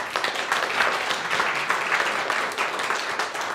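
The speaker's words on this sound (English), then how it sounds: "So please give a big round of applause to Carol." Steady audience applause at an evening pitch night, a dense wash of many hands clapping continuously at moderate volume throughout, with no voices standing out.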